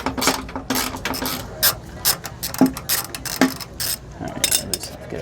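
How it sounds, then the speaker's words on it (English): A ratchet wrench clicks in quick bursts as it breaks loose bolts on a Lippert RV slide-out gear pack on a 2019 Grand Design Reflection, with sharp metallic ticks and a couple of louder knocks, close and unaccompanied by speech. "we're just going to break these bolts off here"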